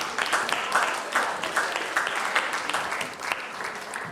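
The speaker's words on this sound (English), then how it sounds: "Another round of applause for her." Audience clapping at an annual general meeting, steady moderate applause with rhythmic pulses, a voice faintly present beneath it.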